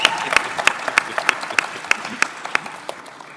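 Audience at a game industry careers panel breaks into a round of applause, dense steady clapping with a few sharper claps standing out, trailing off slightly toward the end.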